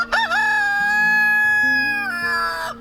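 A farm rooster crows one long, loud, close cock-a-doodle-doo, rising at the start and holding a strained tone before trailing off.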